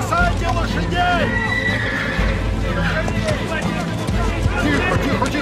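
Horses whinny and neigh repeatedly amid hoof clatter and a babble of shouting voices, a chaotic, crowded scene.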